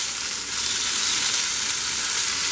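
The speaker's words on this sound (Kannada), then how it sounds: "ಪ್ಯಾನ್ ಮೇಲೆ ಫ್ರೈ ಮಾಡ್ಕೊಳ್ಳೋಣ. ಸ್ವಲ್ಪ ಆಯಿಲ್ ಹಾಕ್ಕೋತೀನಿ" Paneer tikka sizzling and frying in oil on a pan over the stove, a steady, dense crackle that stays loud and even throughout with no voices.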